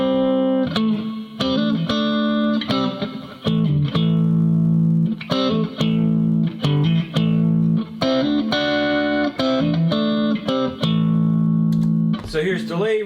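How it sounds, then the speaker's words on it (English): Electric guitar played through a reverb pedal on a pedalboard, rhythmic strummed chords with washy decaying tails, loud and close with no talking. "Here's your reverb."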